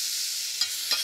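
Raw peeled paprika sautéing briefly in a pot: a soft steady sizzle with two quick stirring scrapes near the end, close and brief.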